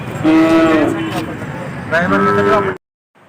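Cattle moo loudly twice at a bull market in Pandharpur, long low drawn-out calls close by, each followed by a pause, ending in near silence.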